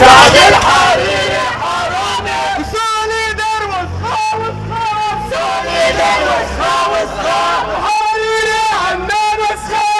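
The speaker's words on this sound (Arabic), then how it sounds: "مطلقين هتافات مناهضة للرئيس سعد الحريري" Anti-Hariri protesters in the Hamra district of Beirut raise loud, rhythmic chants together, a steady crowd roar with repeated voiced phrases that swell and fall over the whole stretch.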